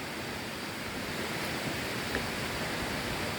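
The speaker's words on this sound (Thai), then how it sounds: "ได้ยินเสียงน้ำตกแล้ว น้ำใสมาก" A soft, continuous rush of Pha Tat Waterfall, Kanchanaburi, Thailand, fills the air evenly, distant and steady with no voices or other distinct sounds.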